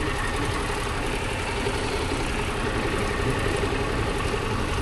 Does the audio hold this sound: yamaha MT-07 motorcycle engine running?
yes